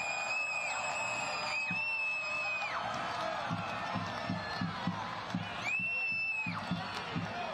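A stadium crowd at a soccer match between Orange County SC and San Antonio FC roars in a steady, dense wash, with whistles and horns sounding over the continuous noise and a commentator talking beneath it.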